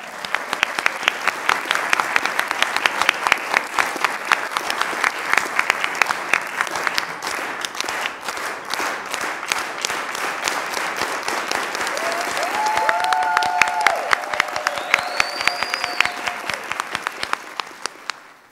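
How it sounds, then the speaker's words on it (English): A community audience at a 2015 school board candidate forum for District 5 (Southeast) breaks into strong, sustained applause lasting nearly twenty seconds, with a few short whistles rising over the clapping near the end. "a big clap for the community for being this engaged"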